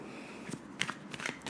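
Tarot cards being shuffled during a reading: a few crisp riffles and slaps of the card edges, close and quiet, with no talk over them.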